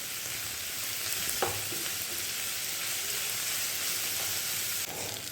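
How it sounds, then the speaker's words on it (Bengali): Chopped onions fry in oil over a high flame, a steady close sizzle and crackle with a couple of brief scraping stirs, no voices. "ফ্লেমটা বাড়িয়ে দিয়ে আমি পেঁয়াজ কুচিগুলো ভাজছি।"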